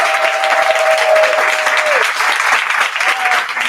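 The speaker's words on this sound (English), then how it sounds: "Let's give one last round of applause for all." A final round of applause for panelists at a Women in Cannabiz event, loud, close, sustained clapping from a room full of people, with a few voices and a whistle-like tone threading through.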